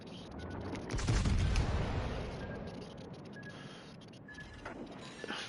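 Naval gunfire booms in the World of Warships Legends game as a battleship's salvo rumbles in heavy and then fades into a dull, rolling roar with scattered mechanical clicks.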